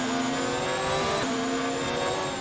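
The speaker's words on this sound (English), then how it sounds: "he's really over revving the engine a bit" A video game race car engine screams while over-revving, a sustained harsh mechanical whine held near the limit with a brief dip in pitch midway, at the French Grand Prix.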